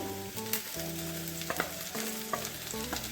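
Sliced ivy gourd and onions frying in a pan, a continuous close sizzle with occasional stirring scrapes and a steady hum running underneath.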